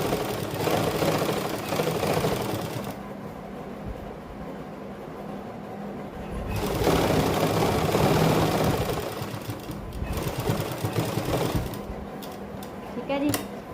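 A sewing machine stitches down the centre crease of a salwar suit neckline in a continuous mechanical whir that rises and falls in bursts, with a voice talking over the running motor.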